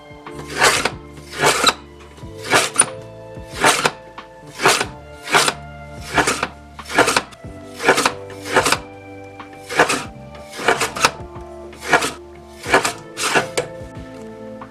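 Freshly laminated paper bookmarks being cut, about fourteen crisp, evenly spaced cutting strokes in a steady rhythm, close and moderately loud with no talking.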